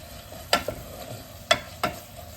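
Chicken, yogurt and onions with panch phoron being stirred in a pan: three distinct scraping strokes of a spoon against the pan, close and fairly loud, over a low background with no talking.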